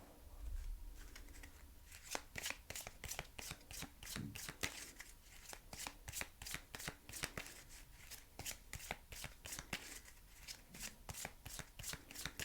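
Tarot cards are shuffled by hand close up in a steady rhythmic riffle of soft, quick slaps and flicks, repeating for the whole stretch with no talk.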